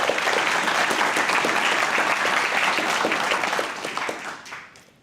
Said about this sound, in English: let's give our staff a big round of applause